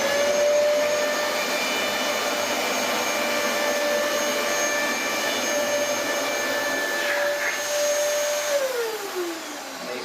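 A Dyson DC33 vacuum cleaner in carpet mode runs with a loud, steady whine and airy roar close by. Near the end the pitch slides downward as the motor changes.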